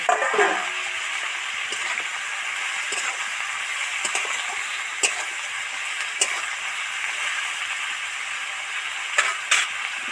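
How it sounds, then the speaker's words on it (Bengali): Broad beans, potatoes and chopped tomato fry in a pan while being stirred, making a steady, moderate hiss and sizzle broken by occasional spatula clicks and scrapes. "টমেটো তো দিয়ে দিলাম ভাজা হতেই থাকছে"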